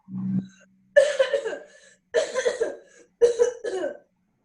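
A man coughs several times in separate heavy bursts, deep and rough, with short silences between them.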